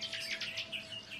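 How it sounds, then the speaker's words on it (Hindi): Small birds chirp and tweet from trees in a quiet morning setting, a quick run of bright, close calls with a steady faint tone underneath and no voices. "पेड़ों से आ रही चिड़ियों के चहचहाने की आवाज"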